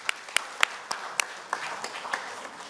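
Sparse, scattered clapping from a modest audience at a book launch event in Korea, a handful of distinct claps spread unevenly, fairly faint and without voices over it.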